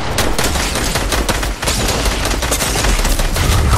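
A video game firefight with dense, loud, continuous shooting, a rapid blur of shots that includes shotgun blasts and stays close and overwhelming for several seconds with no pause.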